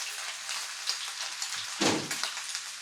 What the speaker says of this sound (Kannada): ಇದಕ್ಕೆ ನಾವೊಂದು 3-4 ಎಲೆ ಕರಿಬೇವನ್ನ ಸೊಪ್ಪನ್ನು ಹಾಕೊಳ್ತಿದ್ದೇವೆ.